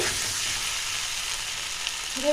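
Spice masala sautéing in oil for Bengali-style white potato dum, giving a brief, close, steady hiss of frying with faint stirring and no talk.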